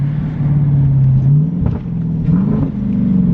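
A Jeep Trackhawk with a new AWE exhaust idles with a deep, steady rumble, then blips its revs twice, the exhaust note rising and falling, loud and close with no talk.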